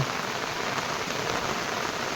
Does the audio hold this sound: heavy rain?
yes